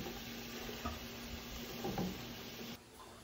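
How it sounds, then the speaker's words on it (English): Ground beef, shallots and sausage browning in a pot on medium heat, a steady low sizzle with a faint stir or two, quiet and continuous before it drops away near the end. "we put our ground beef, our shallots, and our sausage into the pot on medium, and now we're just gonna cook it until it's brown"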